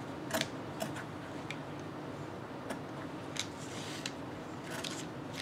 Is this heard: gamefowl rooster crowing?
no